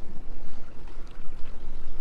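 Sailboat motor running at sea on a passage along the coast, a steady low drone blended with wind buffeting and water wash, close and continuous throughout.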